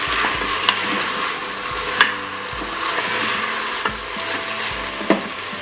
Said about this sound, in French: Donc là, vous faites revenir vos oignons et votre gingembre.